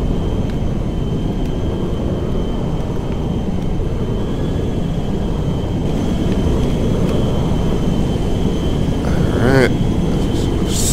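Air Force One airliner on landing approach with gear down in GTA 5, a steady loud engine roar and airflow rumble throughout, with a brief sharper whine near the end.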